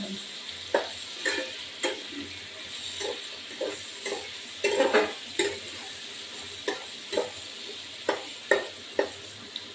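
Bhetki fish and potato pieces fry with vegetables, salt and turmeric in a pan, giving a soft sizzle under regular scraping stirs about once a second, close and clear.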